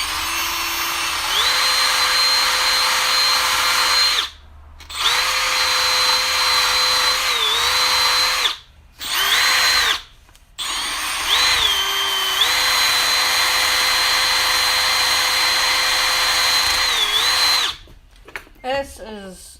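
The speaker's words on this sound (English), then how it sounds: "Where's the drill?" A power drill whines at a steady pitch during sump gasket work on a Tecumseh engine, running loud and close in several long bursts broken by brief stops, with a quick stutter of triggers at the end.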